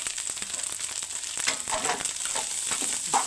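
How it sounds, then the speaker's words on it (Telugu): Andhra-style mutton pieces fry with garam masala in a pan, giving a loud, close, continuous sizzle broken by crackling spatters and stirring scrapes. "అలా వేగిన దాంట్లోకి ఇప్పుడు గరం మసాలాను వేసేసుకుందాము"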